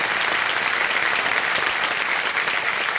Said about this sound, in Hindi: एक बार तालियां बज जाएं अमित सिन्हा जी के लिए।